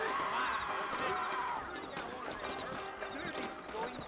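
Horse hooves clip-clop at a walk in a town in the Red Dead Redemption video game, faint and steady under spoken dialogue.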